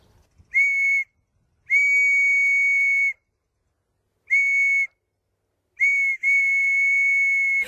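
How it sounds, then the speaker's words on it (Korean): A handmade wooden whistle blown in five clear, piercing tones, the first short, then longer sustained blasts with gaps of silence between them, loud and close with no talk. "진짜 아무나 못 만드는 수제 호루라기."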